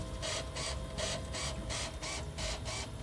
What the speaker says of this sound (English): to the sounds the system makes when scanning the disc